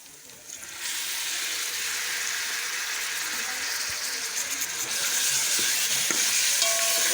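Half a kilo of beef keema mince sizzles steadily in a hot pan while being stirred, a dense continuous frying hiss that swells louder toward the end, close and with no talking.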